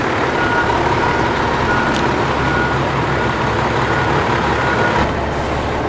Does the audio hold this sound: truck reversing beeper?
yes